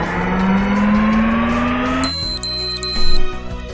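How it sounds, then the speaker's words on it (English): In the video game Never Island, an engine-like drone rises steadily in pitch, then cuts out, and a sudden high electronic alarm tone takes over, pulsing in short bursts with brief gaps. "an alarm sounds out of the blue, and the power cuts off"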